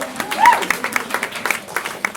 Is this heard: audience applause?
yes